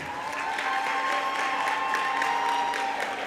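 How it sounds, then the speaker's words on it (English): In a high school basketball gym, the crowd briefly applauds the players, with a dense patter of clapping over a faint, steady tonal hum from the hall. "Give them a round of applause now."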